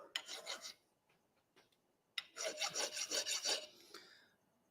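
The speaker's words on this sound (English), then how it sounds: "We'll just take the burr off." A burr is filed off a metal workpiece in a home shed: two bursts of quick, scratchy rasping strokes, close and fairly loud, separated by a short quiet pause.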